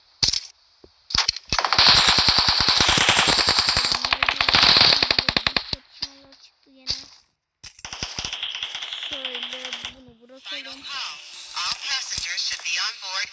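Loud rapid bursts of machine gun fire from a video game rattle in long strings, broken by short pauses and electronic game sounds, with someone talking intermittently over the action.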